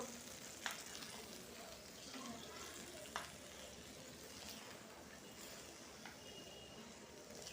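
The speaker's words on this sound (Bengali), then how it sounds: "এখন জল দিয়ে দেবো" Water poured into a hot clay cooking pot, a soft, continuous sizzle and hiss at low level with a few faint clinks, while a voice talks quietly at times.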